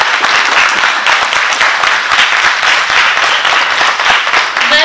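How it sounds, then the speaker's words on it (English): An audience at Equitas Academy applauds an award winner at a Rotary EarlyAct First Knight ceremony. Loud, close applause with distinct individual claps pops out of a dense crowd patter and holds steady throughout. "Give her a round of applause."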